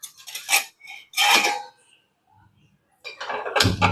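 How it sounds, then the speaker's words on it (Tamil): A pressure cooker set down on a stove for a village-style country chicken curry: a few close metallic clanks and scrapes in short bursts separated by a near-silent gap, ending in a louder knock. "இப்போ குக்கரை அடுப்பில் வச்சுக்கிடலாம்."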